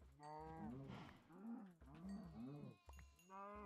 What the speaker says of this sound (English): I am going to kill one more cow here.